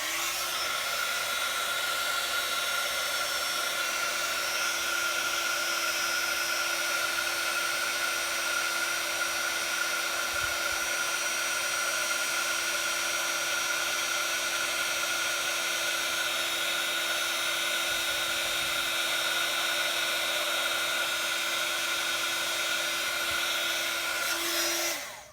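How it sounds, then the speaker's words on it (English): An embossing heat tool blows a steady, loud, unbroken whir with a high whine, running alone for the whole stretch before cutting off at the very end. "there's gonna be some noise as I put the heat tool on"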